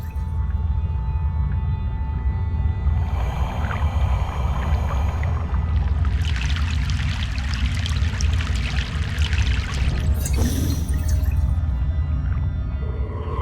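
A boat crossing a river in Broken Sword 3: The Sleeping Dragon, set in Egypt: a steady low rumble under continuous sloshing and pouring water, with rushing splashes swelling midway and a brief sharp splash near the end.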